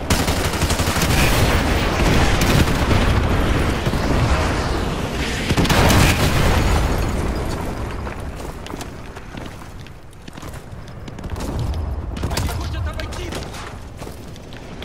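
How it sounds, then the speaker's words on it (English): Artillery strike explosions in Call of Duty land as a loud, continuous barrage of booming blasts and crackling gunfire that roll on throughout and fade somewhat midway before swelling again. "Fire mission received. Artillery inbound."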